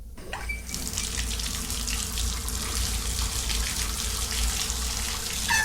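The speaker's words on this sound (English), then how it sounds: "the sound of water rang out again, this time louder than before" Water gushes steadily from a tap into a sink as an eerie sound effect in a horror story, a continuous close hiss and splash running without pause and with no voices.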